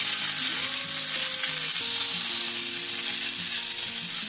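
Turbot fillet seasoned with salt and pepper frying in a spoonful of hot oil for a meuniere dish, giving a steady, close sizzle that runs throughout with some tonal sounds underneath.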